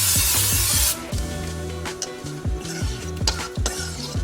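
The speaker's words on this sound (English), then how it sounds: "Have some olive oil spray." Olive oil cooking spray hisses briefly onto a pan while an omelet cooks. The hiss is followed by sizzling and light clinks of cookware over a steady background hum.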